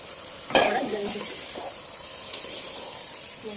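Chicken pieces coated in masala fry in a pot, a soft steady sizzle with a sharp scrape of a spoon near the start and a few lighter stirring touches after.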